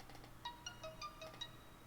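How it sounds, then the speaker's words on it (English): Faint mobile phone ringtone plays a quick run of short electronic melody notes, quiet and a little distant against a low background hum, with no talking. "My phone's going off as always."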